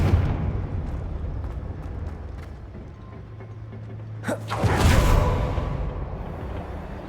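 A Confringo fire spell explodes in Hogwarts Legacy, a sudden sharp burst followed by a rolling whoosh of flame over a low steady game hum.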